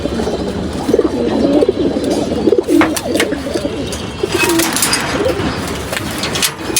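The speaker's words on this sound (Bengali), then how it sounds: "এখানে কিছু কবুতর আছে" Pigeons kept at a home loft coo in low, throaty repeated calls, close and clear, overlapping one another against a busy background of rustling and faint ambient noise.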